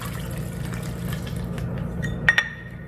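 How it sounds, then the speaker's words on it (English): Water is poured steadily into a container holding alcohol for a homemade gel ice pack, making a continuous low liquid rush, followed by two short glassy clinks near the end. "So I'm going to put 2/3 cup of water in here."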